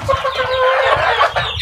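Young gamecock stags in a farm pen cluck loudly and close together, a busy overlapping chorus of short calls from hungry birds waiting for feed.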